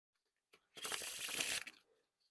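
A deck of Balance playing cards by Art of Play is spread into a wide fan, giving a quiet tick followed by one brief crisp ripple of sliding cards, close and isolated.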